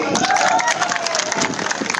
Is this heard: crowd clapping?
yes